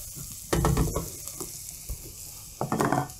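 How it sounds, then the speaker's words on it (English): Chopped onion dropped into a hot pan for a braised cabbage and potato dish, giving a burst of frying hiss around half a second in, a quieter sizzle, then another loud stir near the end. "An onion in. And we are going to cook this now until it's nice and translucent, a little bit golden"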